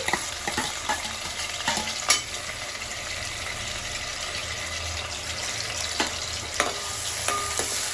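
Chopped onions and green chillies fry in hot oil for a mutton curry, a steady close sizzle punctuated by sharp clacks and scrapes of a spoon stirring the pan.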